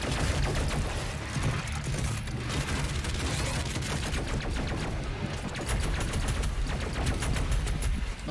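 Rapid gunfire from Doom Eternal, a dense and steady stream of shots with mechanical clatter running at constant loudness throughout.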